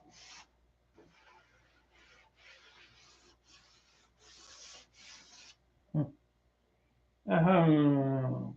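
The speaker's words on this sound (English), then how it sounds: "These areas right here will take a day all by themselves to sand and get right." Hand sanding of a painted surface while hunting for pits and nicks, several short rasping strokes in a row, close and fairly quiet, followed by a brief thump and then a voice speaking.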